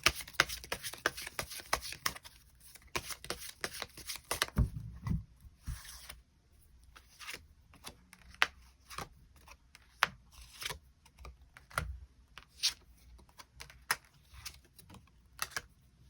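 Tarot cards being shuffled and drawn, giving a run of soft papery riffles and flicks followed by sparse, crisp single snaps and taps as cards are laid down, close and fairly quiet with no talking.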